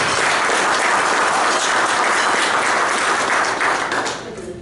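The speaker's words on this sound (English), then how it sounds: "Mr. Antonio Nunes, if you could please give him a round of applause" Audience applause at a breakfast event held during ITW '16, steady dense clapping that fills the room for about four seconds before thinning out and fading at the end.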